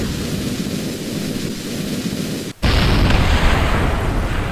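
Two Sepratron solid rocket boosters fire together in Kerbal Space Program: after a steady rumbling hiss, a sharp break gives way to a sudden, loud, sustained roar that fills the rest of the moment.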